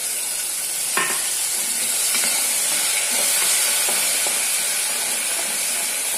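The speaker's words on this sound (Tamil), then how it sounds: "நல்லா பச்சை வாசனை போற அளவுக்கு இப்ப தக்காளி நல்லா வதக்கணும்" Ground tomato paste sautés in a pan with onion and garlic for a pumpkin tamarind curry, giving a close, continuous hissing sizzle with a few scraping stirs of a spoon, no talking.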